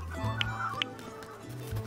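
Chickens in the video game Dinkum give a few soft, short clucks and brief squawks, fairly quiet against a low background hum.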